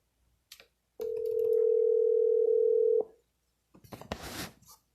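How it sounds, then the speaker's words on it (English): A telephone auto-dialer for real estate cold calls places a call, giving a steady two-second tone with a click at its end, followed by a short burst of noisy line sound. "I'm going to go ahead and start the dialer again."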